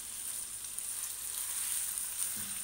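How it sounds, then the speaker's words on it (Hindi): Chicken pieces fry in a pan for an aloo chicken curry, making a quiet, even, continuous sizzle with a fine crackle and no voices. "ये हमारा चिकन फ्राई हो रहा है"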